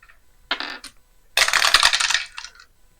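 Dice for the APBA Football board game clatter loudly, first a short rattle, then a longer burst of tumbling and settling clicks, close by with no talk.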